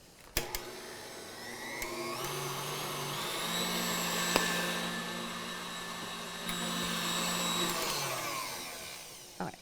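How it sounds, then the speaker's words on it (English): A stand mixer whips meringue, a loud, steady motor whine that holds for several seconds, rising slightly in the middle and stopping near the end, with clicks at start and finish. "maybe just another 30 seconds of mixing"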